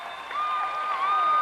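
A home crowd at a Big Ten women's gymnastics championship meet cheers and applauds after a balance beam routine, a dense sustained roar that swells partway through, with a high shrill whistle or cheer riding on top.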